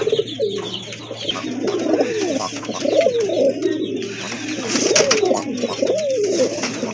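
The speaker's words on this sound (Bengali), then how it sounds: "এক জোড়া শর্ট ফেস কবুতর একদম জেড ব্ল্যাক কালারের" Jet-black short-face pigeons coo continuously in soft, throaty rolling calls, close by, with overlapping voices and faint chirps in the background.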